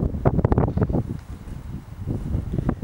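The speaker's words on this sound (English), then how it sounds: "The wind." Outdoor wind buffets the microphone during a ride on a restored 1960 Dawes Concorde vintage bicycle, a gusty roar that surges and dips throughout.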